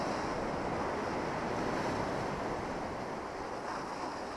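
Spring sea waves wash steadily onto Massandra beach in Yalta, Crimea, a continuous close roar of surf blended with wind across the microphone, with no voices.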